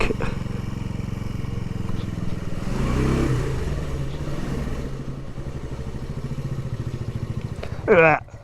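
An old 1980s Honda CB100-N motorcycle idles and putters steadily at close range throughout, with a busier burst partway through and a sharp rising whine near the end, outdoors on a cold day.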